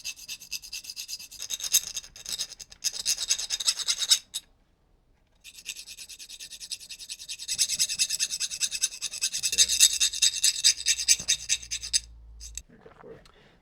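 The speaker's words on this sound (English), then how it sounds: "we're gonna use the file and just start grinding away" A metal file rasping back and forth across the flat sides of a metal hexagon, loud close scraping strokes in two long bursts separated by a brief pause.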